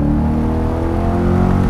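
A 2021 C8 Corvette Convertible with its mid-mounted engine pulls hard under acceleration, a loud, steady engine drone with rising harmonics heard from inside the cabin, continuous through the short stretch.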